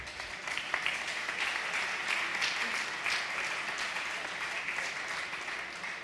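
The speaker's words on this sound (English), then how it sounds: "let's give them an extra round of applause" Guests at a gala dinner and awards ceremony applaud, steady moderate clapping filling the room for several seconds with faint voices beneath.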